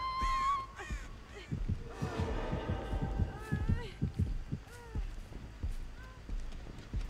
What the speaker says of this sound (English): Why did I get a heartbeat that far away?